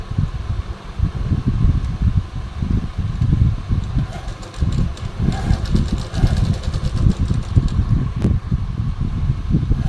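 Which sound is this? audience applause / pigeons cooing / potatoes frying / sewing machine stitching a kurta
sewing machine stitching a kurta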